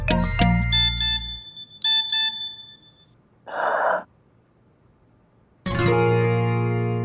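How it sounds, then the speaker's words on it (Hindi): A phone notification plays as a series of bright, tonal electronic chimes, a few ringing notes that stand out cleanly over near silence, followed later by a loud, rich bell-like tone; a breathy vocal sound occurs between them. "सारा का नोटिफिकेशन"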